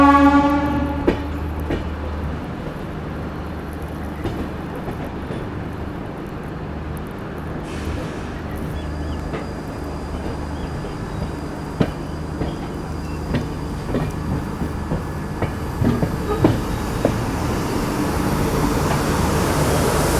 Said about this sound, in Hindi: अपना अराइवल चंडीगढ़ रेलवे स्टेशन में हो रहा है, खूबसूरत सी बारिश के साथ